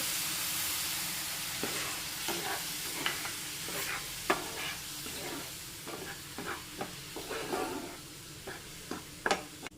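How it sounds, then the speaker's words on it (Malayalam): Milk is poured into roasted semolina in a hot pan, giving a faint steady sizzle with scattered sharp crackles and stirring scrapes, close by and without voices. "അപ്പോൾ കുറച്ച് പാലൊഴിക്കുന്നുണ്ട്."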